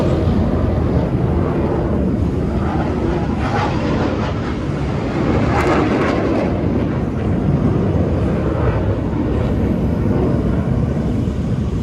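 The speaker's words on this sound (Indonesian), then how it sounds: "pertempuran udara yang sangat sengit" Loud, continuous jet engine roar from F-16 fighter jets dogfighting in a military display fills the air, rising and falling slightly as aircraft pass, with no voices heard.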